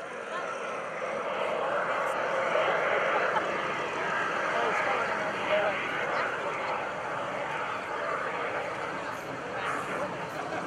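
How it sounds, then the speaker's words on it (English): An FLS Microjet small jet aircraft flies at the 2013 Greenwood Lake Airshow, its steady broadband roar sustained and moderately loud throughout, with crowd chatter underneath. "For a little bitty jet, that thing uses up a lot of sky in a hurry, doesn't it?"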